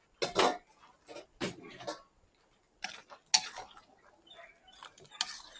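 Pork being tossed in sweet and sour sauce, heard as scattered clinks and scrapes of a utensil against a pan or bowl in short irregular bursts, set apart by quiet gaps.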